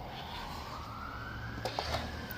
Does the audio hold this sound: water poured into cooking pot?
no